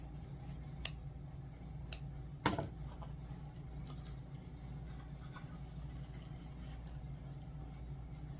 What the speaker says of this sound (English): Same thing, fold them all in half, cut up at an angle.